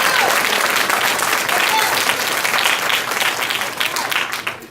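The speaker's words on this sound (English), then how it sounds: "Clap your hands, make your hands fall off" Loud, close applause from an audience at the 2016 Champions of Recovery Awards Symposium, a thick continuous roar of clapping that fades slightly toward the end, with some voices mixed in.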